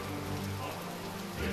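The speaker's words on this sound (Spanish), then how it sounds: "parece que está empezando a llover." Steady cartoon rain sound effect patters densely on a surface, a soft continuous hiss of drops filling the short stretch without pause.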